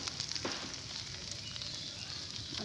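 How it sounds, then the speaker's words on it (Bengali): Spices with a little chili powder sautéing in a hot pan while cooking a Bengali pitha dish, giving a steady close sizzle and frying hiss with faint stirring scrapes and no talk. "মশলাগুলোকে একসঙ্গে আমি কষিয়ে নেব। ওরা সামান্য একটু লঙ্কার গুঁড়ো দিয়ে দেবো"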